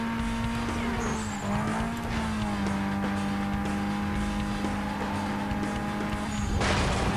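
Race car in Need for Speed Most Wanted holding a loud, steady high engine tone throughout, with a brief revving surge near the end.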